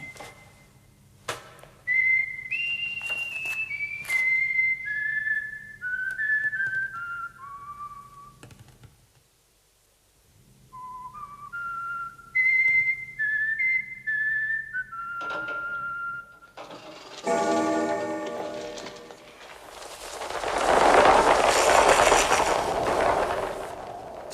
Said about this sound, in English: We have a visitor, a guest, and he's whistling. That's a nice whistle.